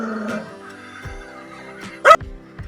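A local street dog in a village in Sooranad, Kerala, gives a few faint whines and yips and then one short, sharp bark close by. The bark stands out against a quiet background.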